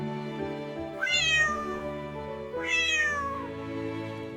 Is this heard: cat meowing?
yes